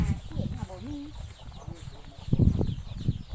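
Chickens clucking nearby at a rural home in Laos, a few short, soft calls mixed with rustling and low background noise.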